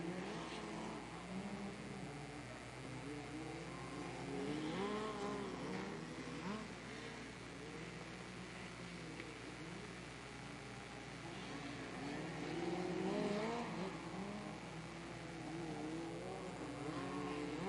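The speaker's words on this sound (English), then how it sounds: "As Cameron Key just playing with a throttle. 5 laps to go." Race cars accelerating around a track with five laps to go, a steady engine drone swelling and fading as they pass, with commentary talk throughout.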